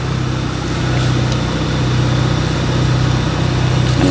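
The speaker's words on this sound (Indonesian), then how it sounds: "Ini mobil kendaraan sudah menyala." A car engine idles steadily after being started with a newly installed keyless push-button start system, giving a continuous low rumble that holds evenly throughout with no talk over it.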